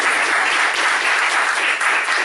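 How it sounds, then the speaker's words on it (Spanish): Brief, dense audience applause at a Spanish-language talk on food sovereignty, a loud steady wash of many hands clapping with no voices over it. "pueden aplaudir."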